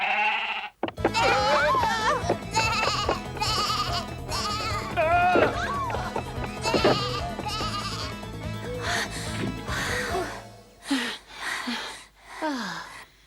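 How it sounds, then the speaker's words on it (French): An animated goat, frantic after being kept in a too-small barn in a Snow White cartoon, lets out loud, wavering bleats one after another, ending in a few shorter, fainter cries. "On dirait bien que la chèvre s'est clairement faite comprendre, non?"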